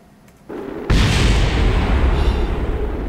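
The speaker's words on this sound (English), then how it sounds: "I just saw the explosion" A video-game explosion as a craft's heat shield fails: a sudden loud blast lands about a second in, then a heavy, roaring rumble holds for several seconds.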